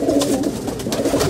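Pigeons coo steadily in a fancier's loft, a soft throaty murmur of several birds overlapping continuously at close range with no voices.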